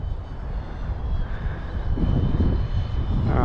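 A fast RC plane flies in gusty wind, its motor whining at a steady pitch under heavy wind buffeting that swells louder toward the end.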